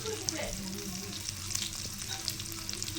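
Dried fish (karuvadu) frying in a pan, a dense, steady sizzle with light crackles and occasional stirring scrapes, close and continuous without talk.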